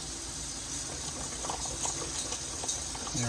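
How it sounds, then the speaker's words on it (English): Water pours steadily into a container holding jars of A2 milk yogurt, a continuous gushing, bubbling fill heard close and alone for a few seconds. "Let's add some water."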